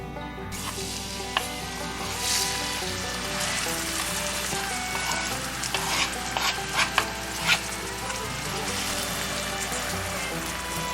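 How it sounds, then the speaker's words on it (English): Onions sautéing in a hot pan over medium-high heat, stirred continually: a steady sizzle with scraping and clinking of the utensil against the pan, close and alone with no talk. "I'm going to stir this continually to make sure that it doesn't burn"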